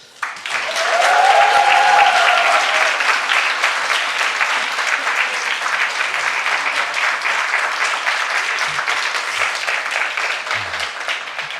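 Sustained applause from a church congregation at a Sunday worship service, dense steady clapping swelling quickly and holding loud for the whole stretch, with no voices.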